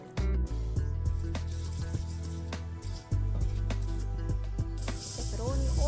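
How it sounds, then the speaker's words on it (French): Spices with a cinnamon stick fry gently over low heat in a pan, giving a steady close sizzle broken by scraping stir strokes, with a brighter hiss swelling near the end. "Bien faire revenir les épices en remuant."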